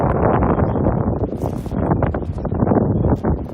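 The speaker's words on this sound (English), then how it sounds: "And of course now the wind" Wind blusters over a microphone on a mountain trail descending from Blood Mountain Shelter, a loud, steady roar with gusty swells throughout.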